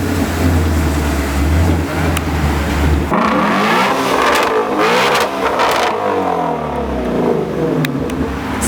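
A Ford Mustang Mach 1 pulls away with a loud, steady engine roar that rises into revving as it drives off, heard close up.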